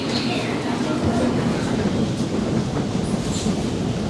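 A train running on the rails on a London Zone 1 National Rail route, a low steady rumble and faint clatter heard from on board, with voices talking over it.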